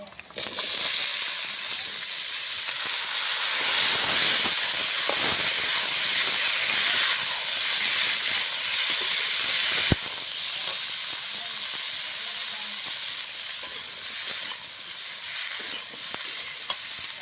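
Cut vegetable stalks and potatoes hitting hot tempering oil in a pan for a vegetarian dal dish, giving a loud, steady sizzle and hiss that runs throughout, with occasional stirring scrapes and a sharp clack near the middle.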